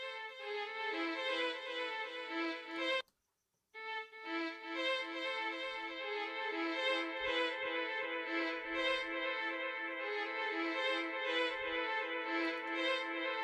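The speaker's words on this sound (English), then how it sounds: "I'm going to be using H delay from Waves." Synth-like melodic sample run through a Waves H-Delay plugin, sustained notes with echo tails, briefly cutting out near three seconds before resuming steadily.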